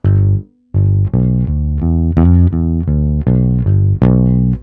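Electric bass plays a short blues fill, a run of clear, sustained notes including a quick grace note, with a brief gap near the start; close, loud and solo with no talking.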